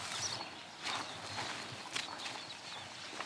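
Soft, irregular hoof clops of a horse walking at a slow pace, fairly close, over a quiet outdoor background with no talking.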